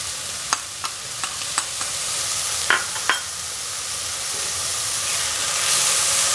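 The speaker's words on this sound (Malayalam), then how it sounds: "ഇതെല്ലാം കൂടെ മിക്സ് ചെയ്യുക." Curry ingredients for an egg and potato curry being stirred together in a hot pan, a few sharp spoon taps against the pan over a steady hissing sizzle.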